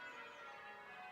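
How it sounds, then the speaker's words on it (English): Church bells ring on a Sunday morning as a steady, sustained metallic tone, heard faintly from a distance with no talking. "Oh, there are the bells."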